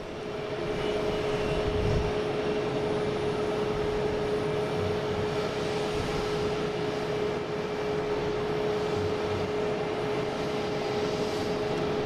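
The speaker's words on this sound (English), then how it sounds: "next coming in is American Airlines coming in from Charlotte. (737-800), flight 1552" An American Airlines Boeing 737-800 from Charlotte lands at Boston Logan, a steady, loud, continuous jet roar with a faint tonal whine holding level throughout, without voices.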